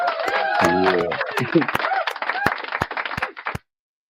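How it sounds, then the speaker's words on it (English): A studio audience claps for a recording studio owner on a live Caribbean celebrity show. Sharp, scattered handclaps ring out over a speaking voice and a short vocal outburst, then stop abruptly. "we have to give this brother a proper round of applause, man, for the work he's been doing."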